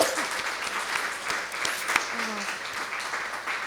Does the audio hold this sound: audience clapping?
yes